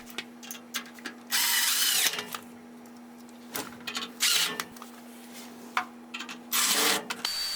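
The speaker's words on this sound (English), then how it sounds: "I personally like to secure the draft hood to the top of the tank with self-tapping sheet metal screws" A power drill drives self-tapping sheet metal screws into the draft hood atop a gas water heater tank, in several loud, whirring bursts of a second or so each, separated by quieter pauses and a steady low hum.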